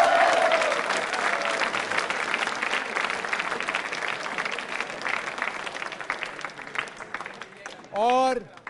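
Loud audience clapping at a quiz show, dense at first then gradually thinning and softening, ending with a short electronic tonal sweep near the end.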